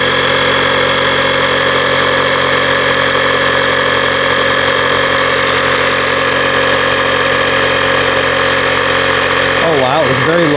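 A portable tire inflator pumps up a snowblower tire, giving a loud, steady mechanical drone that runs unbroken throughout and wavers briefly near the end.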